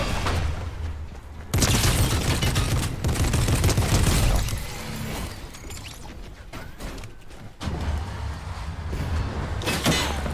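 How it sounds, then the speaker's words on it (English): Gunfire in the video game Fortnite, with loud sustained bursts of shots and booms alongside mechanical clanks, fading to quieter rattles before a further volley. "What is he shooting at me for?"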